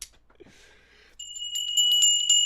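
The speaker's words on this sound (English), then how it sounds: "Tinkly bells." Tinkly bells ring in a quick run of bright, high, sustained chimes after a near-silent start with a faint rustle, close and fairly loud, with no talking.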